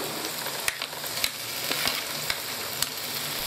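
Tomatoes and green chillies frying in a pan, a close, steady sizzle with a few sharp taps from a stirring spoon at irregular intervals and no talking.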